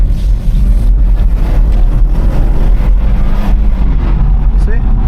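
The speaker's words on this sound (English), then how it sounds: "I'll press it on this road so y'all can hear it without the exhaust open." Steady low engine rumble of a car with a Valvetronic dual-tip exhaust, valves closed, idling and running on a road, with wind noise buffeting the microphone throughout.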